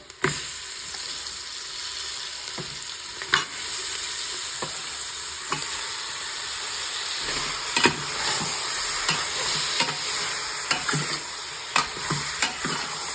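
Mutton with turmeric sizzles steadily in a pan while a spoon stirs and scrapes at intervals, producing sharp clinks over a continuous frying hiss.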